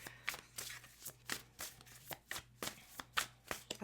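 Tarot cards are shuffled close by in quiet, rapid bursts of riffling and tapping, a steady rhythm of soft papery slaps with no talking.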